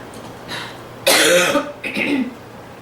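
A person nearby clears their throat and coughs, a loud raspy burst followed by a shorter second one.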